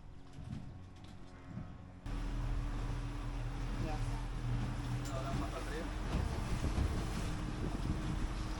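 A boat heads up the Rio Dulce River in Guatemala, a steady low engine rumble and rushing water with heavy wind buffeting the microphone, growing louder after the first couple of seconds, with voices faintly mixed in.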